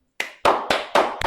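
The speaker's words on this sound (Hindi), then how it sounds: "तालियां हो जाए यार खुद" A few sharp, separate hand claps in a classroom lesson, about five loud slaps at an uneven rhythm with silence in between, close to the listener and with no talk.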